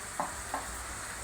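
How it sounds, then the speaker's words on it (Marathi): Mutton masala, turmeric and coriander powder being sautéed in a pan: a soft steady sizzle with two brief scraping strokes of the spatula, faint and close, with no talk. "मस्त हे परतून घ्यायचं आहे"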